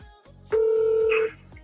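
Telephone tones before a call: a single loud, steady electronic tone holds for under a second, preceded and followed by softer faint tone fragments, with no speech.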